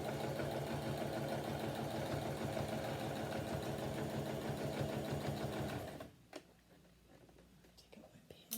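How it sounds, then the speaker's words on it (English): A small sewing machine stitches a lounge chair cushion in a steady, fast, close whirring run, then stops, leaving quiet handling sounds and a soft voice. "my little sewing machine does not have a heart attack or a hissy fit on me here"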